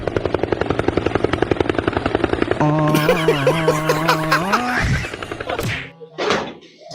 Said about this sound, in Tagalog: Helicopter yan.